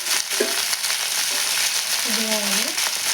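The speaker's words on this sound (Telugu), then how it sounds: "ఉల్లిపాయలు వేస్తున్నాను" Onions sizzle steadily in hot oil in a pan, a dense broadband frying hiss through the whole stretch, with a few brief tonal scrapes or clinks of a utensil near the end.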